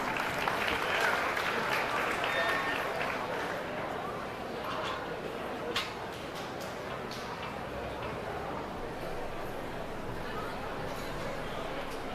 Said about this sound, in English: the showmen that are still along the rail definitely deserve a nice round of applause as they exit the ring